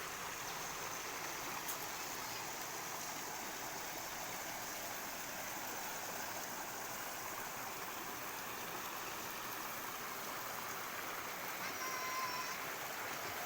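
A river rushes steadily over and around large boulders, a broad, continuous wash of water that stays loud and close throughout with no clear voices.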